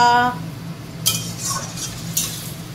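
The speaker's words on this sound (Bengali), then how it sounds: "মা এখন বানাচ্ছে এখানে ডিম কষা।" Metal utensils clink against a pan while egg curry (dim kosha) is stirred in a home kitchen, with a few light scrapes and taps over a steady low background hum.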